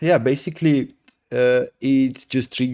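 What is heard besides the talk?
No distinct noise like a dog, phone or traffic.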